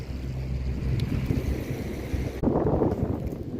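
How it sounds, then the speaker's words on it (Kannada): Strong wind buffets the microphone on the snowy summit of Mt. Titlis in the Swiss Alps, a steady low roar that surges louder partway through, with no talking. "ತುಂಬ ಗಾಳಿ ಇದೆ ಇಲ್ಲಿ"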